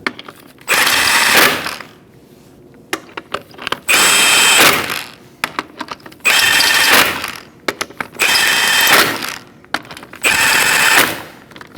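An impact wrench tightens wheel lug nuts on a 2004-2012 Chevrolet Colorado in a crisscross pattern: five loud, rattling bursts of about a second each, separated by short pauses with faint clinks, close up and without speech.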